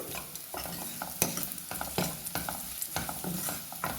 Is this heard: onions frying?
yes